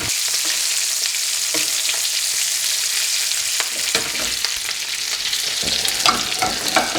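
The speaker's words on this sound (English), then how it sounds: "there's about another minute of cooking before we just flip them over" Fish fries in a pan with a loud, continuous hiss and sizzle close up, joined toward the end by a few light scraping and shifting sounds.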